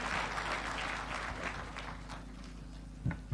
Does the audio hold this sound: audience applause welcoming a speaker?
yes